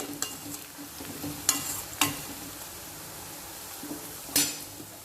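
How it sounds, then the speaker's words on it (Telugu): Onions fry in a pan for a cucumber mutton curry, a low continuous sizzle with a few sharp spatula knocks and scrapes against the metal, close and alone. "చక్కగా ఫ్రై అయినాయి ఆనియన్స్ చక్కగా ఫ్రై అయిపోయి ఇలా ఉంటే బాగుంటుంది"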